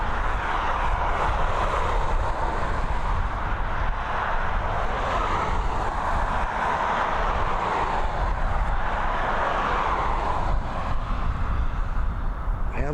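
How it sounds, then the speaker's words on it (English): British Airways airliner passing overhead near Dublin Airport, a sustained loud engine rumble that holds steady through the whole stretch with a slight swell, with no speech. "Just watch the BA fly over you,"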